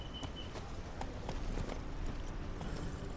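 Roach, a horse in The Witcher 3, galloping in a rapid rhythmic clip-clop of hooves, steady and fairly loud over a low ambient bed, no talk.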